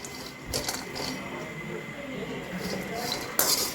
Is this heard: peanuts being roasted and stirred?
yes